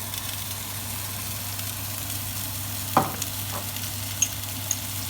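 Flattened fillet steak frying in a hot pan, a steady soft sizzle with a few faint scrapes and clicks, no talking.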